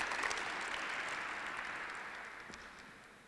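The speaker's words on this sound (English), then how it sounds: "One final round of applause for all 6 of our Hall of Fame inductees" A crowd at an Elon athletics Hall of Fame ceremony applauding its inductees, with broad, sustained clapping that rings out in the hall and slowly fades.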